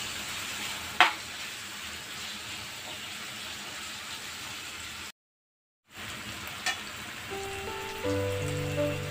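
Tomatoes frying in oil in a pan with a little salt until soft, a steady low sizzle like light rain with a couple of sharp utensil taps, a brief silent gap midway, and a louder hum near the end.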